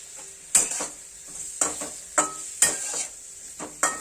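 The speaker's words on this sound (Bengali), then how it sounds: "যাতে পনির শক্ত না হয়ে যায় সেই জন্য খুব সামান্য ভাজতে হবে।" Paneer frying lightly with a pinch of turmeric for palak paneer, a soft sizzle broken by a few sharp scraping stirs of a spatula against the pan, close by.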